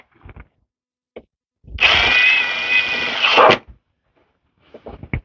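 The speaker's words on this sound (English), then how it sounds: "Maybe we'll pre-drill in here a little bit." A power drill pre-drills holes in wood for a raised garden bed, with one close, whining burst of about two seconds between a few faint knocks and handling sounds.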